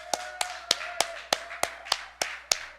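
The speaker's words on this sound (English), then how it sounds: "So give yourselves a round of applause." Slow, evenly spaced claps ring out about three times a second, nine sharp hits in unison from a small live radio café audience, each followed by a short room decay.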